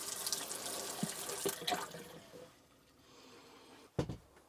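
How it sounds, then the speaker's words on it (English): Water runs from a supply line into a trailer in an off-grid water system, a soft splashing flow that fades to a quieter trickle, broken by a few sharp knocks and a loud clunk near the end. "I can show you the water running over there."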